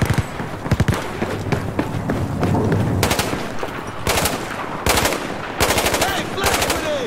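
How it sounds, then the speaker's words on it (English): Gunfire in the video game Battlefield 4: rapid bursts of automatic fire come in repeated volleys, some loud and close, with single shots between and a voice speaking under the fighting. "he's still shooting over there"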